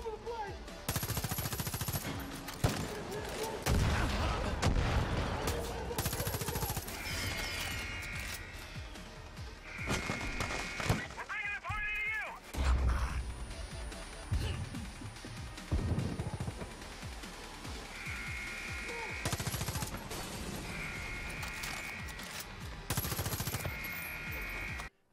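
A blue-tarp-silenced stealth assault rifle with modifications firing in Far Cry New Dawn, repeated bursts of muffled shots spread across the stretch amid loud game sounds and music.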